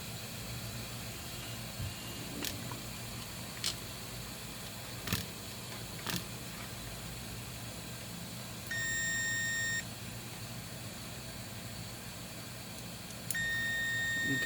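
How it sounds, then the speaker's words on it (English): Multimeter continuity beep during a short-circuit check on a Lenovo ThinkPad T420 laptop board: two sustained electronic tones, each about a second long, over quiet background hiss and a few faint clicks. "now we will check with the multimeter whether the shorting has gone or the shorting is still there"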